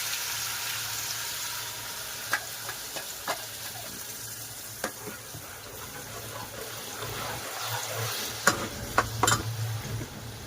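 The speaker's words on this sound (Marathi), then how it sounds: "आणि टोमॅटो हे भाजून घेतले आणि आता आपण तेलात टाकूया।" Roasted tomatoes, with coconut and onion, sizzle in hot oil for a fish recipe, a moderate steady frying hiss marked by scattered spoon clicks and stirring taps.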